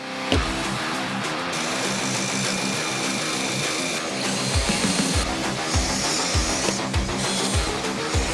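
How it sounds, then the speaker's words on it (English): Power drill boring pocket holes in wood for an arcade cabinet control panel, a loud continuous whirring and grinding with rhythmic thumping bursts in the later part, close and with no talking. "now let's drill the pocket holes"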